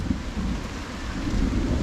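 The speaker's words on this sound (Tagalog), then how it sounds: "Umuulan na, kumukulog pa." Steady rain pours down in a dense, continuous hiss with a deep low rumble of thunder rolling underneath, loud and close throughout.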